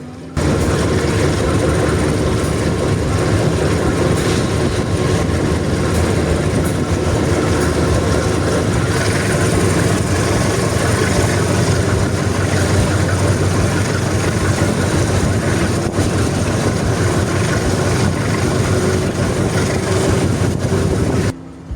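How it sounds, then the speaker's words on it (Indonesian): Diesel locomotive of the Kaligung train departing Pemalang station roars as it gathers speed, a loud continuous rumble with rail clatter running nearly the whole way through. "Suara deru mesin lokomotif semakin meninggi"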